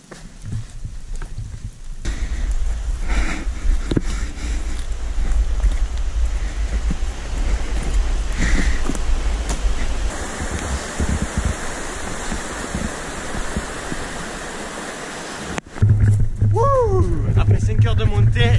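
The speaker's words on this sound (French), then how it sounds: "Et il pleut." Rain and wind in the New Zealand mountains make a steady, close, broadband hiss that lasts throughout. A brief voice and a shift in the noise come near the end.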